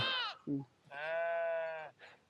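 Sheep and goats on a rural mountain trail bleat nearby, with several wavering, nasal calls of varying length close together and short pauses between them.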